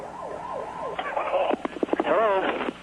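Wailing siren of a volunteer ambulance responding to a house fire in New York, rising and falling in smooth sweeps, then warbling faster over radio chatter and other voices in a busy, noisy scene.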